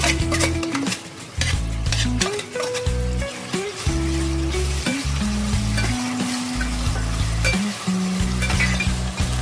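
Onion for dal khichdi fries in a pan with a loud, continuous sizzle, while a metal spoon scrapes and clinks against the pan in repeated strokes up close; no talking.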